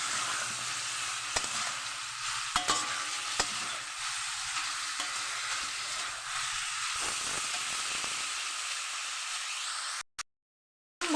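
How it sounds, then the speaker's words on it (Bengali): Vegetables fry in a pan with a steady, loud sizzle while a spatula scrapes and stirs in uneven bursts. The sound then drops to near silence at the end. "খুন্তির সাহায্যে আমি ভালো করে এগুলোকে আমি একটু ভাজা ভাজা টাইপের ভেজে নেব।"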